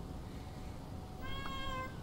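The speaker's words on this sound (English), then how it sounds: "This is the kitty cat. He's a big kitty." A cat in the video game Born Punk gives a single short meow over a steady ambient background hum, moderately clear and close, with no speech.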